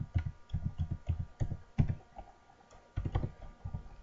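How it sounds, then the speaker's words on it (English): Fingers typing on a computer keyboard, a close run of quick soft key clicks in short uneven bursts with a brief pause midway, quiet and alone. "If I try to type in 7 characters,"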